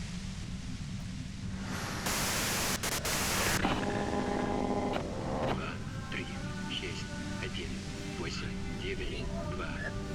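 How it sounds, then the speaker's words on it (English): Steady white-noise static from the video game Disco Elysium hisses loudly and continuously, briefly surging brighter, with a voice-like murmur running beneath the hiss. "you can do it through the white noise."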